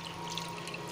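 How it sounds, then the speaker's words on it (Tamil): Tamarind extract pouring into fish gravy gives a steady, moderate liquid trickle and splash that holds through the whole second, with no talk. "அப்புறம் நம்ம இப்போ அதுக்கு தேவையான புளி கரைசல் சேர்த்துக்கலாம்."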